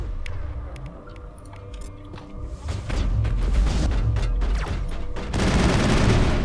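Gunfire in the sci-fi video game Mass Effect crackles in dense bursts of shots and impacts over a rumbling low background, growing louder and busier midway.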